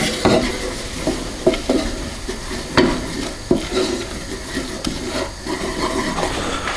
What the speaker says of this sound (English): we add in the flour and just stir that in